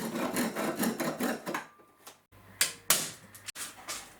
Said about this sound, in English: I staple where necessary and do a coarse trimming.